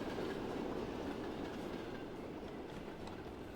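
A passing train in the railway simulation game Transport Fever 2 gives a steady, continuous rumble with light rail clatter, moderately loud and unbroken throughout, with no talking.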